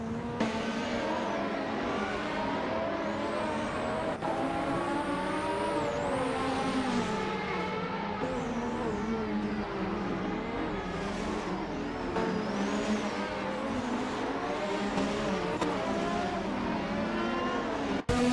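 Race car engines roaring in a racing video game, including a 1988 SAC Speed 881, with several cars droning and shifting pitch continuously as they rev and pass, loud and unbroken throughout.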